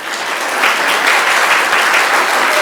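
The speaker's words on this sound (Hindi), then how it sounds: "ताली बजानी है, सब ने बजाओ" Audience applause at the close of a morning Bhagavatam sermon in Vrindavan, a steady wash of many hands clapping close and loud throughout.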